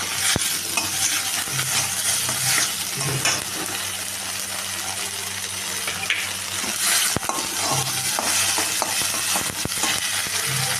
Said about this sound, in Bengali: এটাকে আমি ভালো করে একটু নেড়ে নেবো।